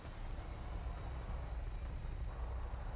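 Aircraft engine drone as a craft lifts off in the video game Fallout 4, a steady low rumble that stays loud and even throughout, with no talking.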